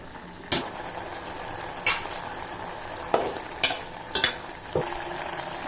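A pan bubbles and sizzles steadily, broken by a handful of sharp spoon clinks against the metal.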